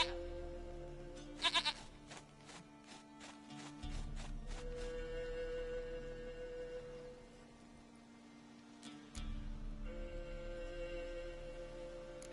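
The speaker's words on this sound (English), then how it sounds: "Goat of mine, dearest, sweetest goat." A goat in The Witcher 3: Wild Hunt gives a few nearby bleats over a steady low ambient drone, and the background layers shift partway through.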